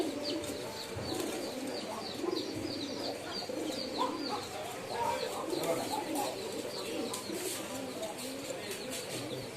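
Pigeons coo in soft, repeated low murmurs, with light chirps and rustling mixed into a continuous busy flock background.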